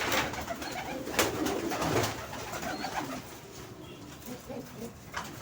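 Pigeons cooing in a loft, several soft throaty coos repeating at a moderate pace up close, with faint rustling and a few sharp knocks in the background and no speech.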